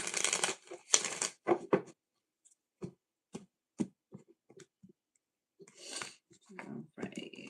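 Tarot cards are shuffled in quick riffling bursts, followed by scattered soft taps and flicks of cards being handled close by.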